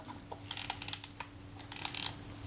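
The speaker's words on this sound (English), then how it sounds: "I've refitted the advance lever to the top of the camera" The advance lever of a Topcon Wink Mirror E SLR camera being wound, giving two quick ratcheting mechanical clicks, close and fairly quiet with no voices.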